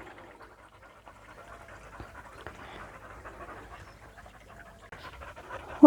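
A dog pants steadily at a watering hole beside a cottage in the Cotswolds, quick rhythmic breaths heard close and fairly quiet against faint outdoor background.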